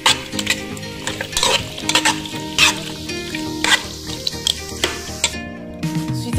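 Beef with onions, pepper and a little chili frying in a pan while being stirred, with close, steady sizzling broken by repeated scraping and clinking of a utensil against the pan.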